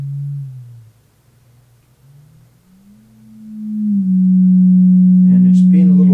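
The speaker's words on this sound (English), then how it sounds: "So this is a sine wave." A synthesizer sine wave tone from a modular setup, a pure steady hum that dips and wavers in level, then swells louder and holds as a sustained tone with a few brief overtones near the end.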